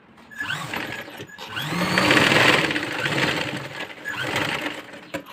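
Sewing machine stitching a fabric pillow cover, a steady motor whir that rises and falls across several short runs, close and fairly loud, with no talk.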